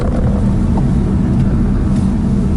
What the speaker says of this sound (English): Just driving through the rainforest in Puerto Rico.